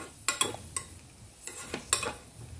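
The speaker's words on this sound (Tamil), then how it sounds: "நெய் ஹீட் ஆன பிறகு முந்திரி சேர்த்து இத நல்லா ரோஸ்ட் பண்ணிக்கலாம்" Cashews roasting in hot ghee in a pan for semiya payasam, with a few sharp spoon-on-pan scrapes and stirs over a soft, faint sizzle, close and unhurried.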